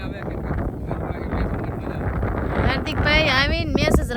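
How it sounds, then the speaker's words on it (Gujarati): Strong gusty wind buffets the microphone outdoors on a hot day at a cricket game, a loud continuous rumble, with people beginning to talk near the end. "પવન આવે છે સંભળાતું નથી કાંઈ કેટલો પવન છે"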